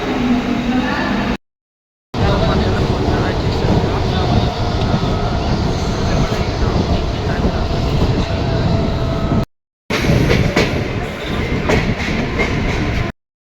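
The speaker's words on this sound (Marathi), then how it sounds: "आज पनवेलची ट्रेन भेटली मला आता" A local train bound for Panvel rumbles loudly and continuously with a dense, close-up roar from inside the carriage, cut by two brief gaps, while faint talk sits underneath.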